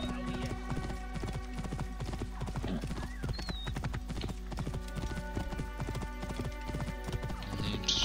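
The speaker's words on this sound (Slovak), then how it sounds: "Kone." Steady clip-clop of horse hooves trotting in Assassin's Creed Origins, loud and continuous, with a brief whinny and game ambience, while someone talks over it.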